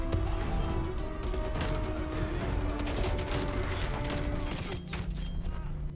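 Rapid, sustained automatic fire from the Milano 821 submachine gun in the Black Ops Cold War video game, a dense and steady burst running for several seconds with mechanical clatter layered over it.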